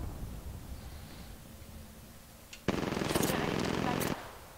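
Apex Legends gunfire, a sustained burst of rapid automatic shots fairly near, starting abruptly after quiet rustling ambience and cutting off after about a second and a half.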